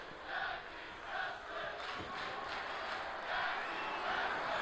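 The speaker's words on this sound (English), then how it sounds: "The crowd chanting tag team wrestling." Rowdy crowd in a WWE 2K24 tag team wrestling match, WCW Universe Mode Monday Nitro show, chanting in steady swelling waves that rise and fall repeatedly, loud and continuous across the arena.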